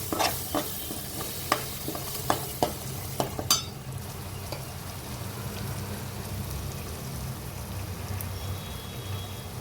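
Masala paste frying in hot oil for a paneer curry, a steady close sizzle with a few sharp pops and spatters in the first seconds, then a continuous even hiss.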